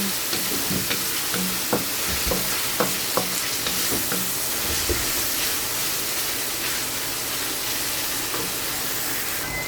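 Chopped tomato sautéing in a pan with opo squash, garlic and onion, a steady loud sizzle and hiss running throughout, with scattered light scraping clicks from a stirring spoon.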